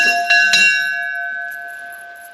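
A small chapel bell in a forest is struck three quick times, then its clear metallic tone rings on and slowly fades away.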